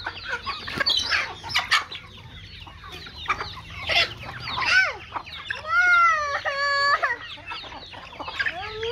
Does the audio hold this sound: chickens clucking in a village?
yes